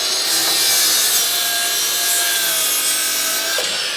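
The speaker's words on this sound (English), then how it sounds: "The guys over there are pre-cutting one of our kits for studs. They're marking them, cutting them," A saw cuts through wooden studs and purlins for a 40x60 stud frame building kit, a loud, continuous rasping cut close by with no pauses.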